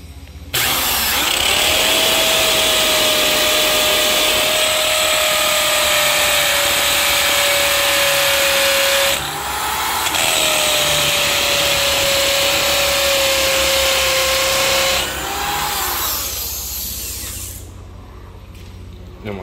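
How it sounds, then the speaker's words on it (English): A hammer drill with a masonry bit bores into a door jamb during a beach house build, a loud steady whining drone in two long bursts with a brief pause between, then spinning down near the end. "we're gonna drill the masonry bit into the jamb"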